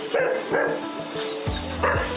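Several small dogs bark and yip inside a parked van in a city centre, a quick run of sharp, close barks with a whimpering tone, heard without anyone talking.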